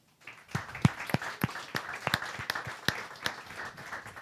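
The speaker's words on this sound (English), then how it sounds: "Let's give them a round of applause." A small audience applauds the host venue, Canvas Cowork, at a wearables meetup, with sparse, distinct individual claps at close range that pick up quickly and keep going fairly quietly.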